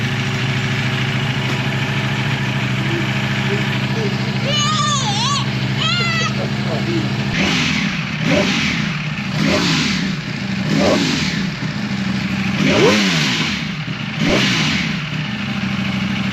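A Ducati motorcycle engine idles loudly up close, then is revved in a series of sharp, repeated throttle blips. A person speaks briefly over the idle before the revving starts.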